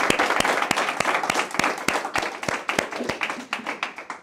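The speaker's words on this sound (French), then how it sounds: "Vous pouvez tous applaudir Samuel." An audience at a live show applauds, with sharp rhythmic claps standing out over a crowd's patter that gradually thins and fades over a few seconds.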